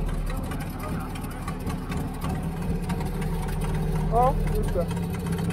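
A potato harvesting machine's engine runs steadily in a field during potato lifting, a constant low rumbling hum throughout while people talk over it nearby.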